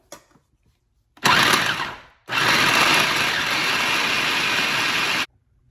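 A grinder mincing food to a ground-beef-like texture for Spanish rice: a loud, steady motor whir in two bursts, a short one and then a longer continuous run, with silence before and after.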